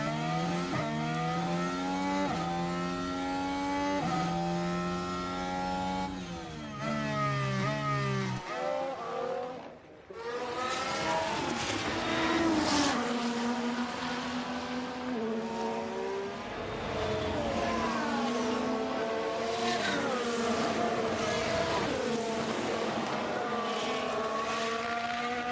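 F1 race cars in F1 Manager 23 at the Hungaroring, with several engines whining close by. The pitch climbs through repeated gear changes as the cars accelerate out of the final corner and pass. There is no talk over the engines.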